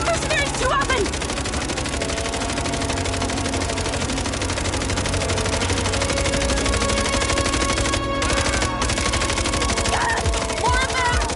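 Sustained machine gun fire from a video game firefight, dense and continuous throughout, with brief bursts of other game sounds layered on top and some voices faintly mixed in.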